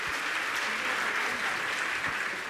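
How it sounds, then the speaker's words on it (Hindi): A large audience at a Jain monk's religious discourse gives loud, dense, sustained applause, steady throughout. "एक बार जोरदार तालियां सभी लोग बजा दें।"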